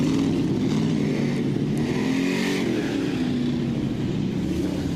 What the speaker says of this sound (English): Heat race number 2 now out on the racetrack